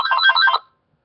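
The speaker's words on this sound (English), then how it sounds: "Phone just interrupts me out of nowhere." A telephone sitting beside a computer rings once in a short, bright electronic trill that lasts about half a second and then stops, leaving silence.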